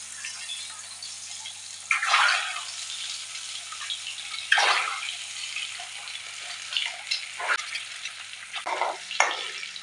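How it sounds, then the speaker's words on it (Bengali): Eggs frying in hot oil in a home kitchen, a faint, steady sizzle broken by several sharper bursts of spattering as the eggs go into the pan. "এখন তেলটা তো গরম হয়ে গেছে, এখন একে একে আমি ডিমগুলো দিয়ে দেবো।"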